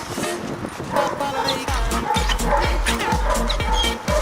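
A dog barks repeatedly in a quick, steady series of close, loud woofs with a few yips, while people talk alongside.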